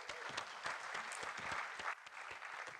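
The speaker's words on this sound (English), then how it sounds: "can we give him a clap?" Coaches at a basketball clinic clap together in a soft, steady patter of applause that holds through the moment at a moderate distance.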